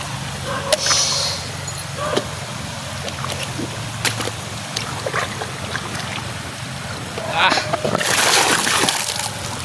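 Feet wade through a flooded street, with scattered water splashes that build into a louder churning splash near the end, while voices carry faintly in the background.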